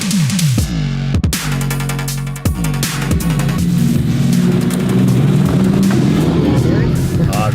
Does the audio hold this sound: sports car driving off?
yes